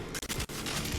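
Rapid bursts of gunfire in the video game Mass Effect 2, played on PS4: dense, continuous automatic fire with brief gaps, loud and close, with no talking.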